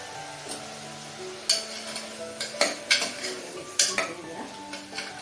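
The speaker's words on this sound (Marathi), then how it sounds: "आता चमचा हळद टाकायची" A spoon taps and scrapes against a cooking pan while turmeric goes in for a potato dish, giving a few sharp metallic clinks over a low background hum.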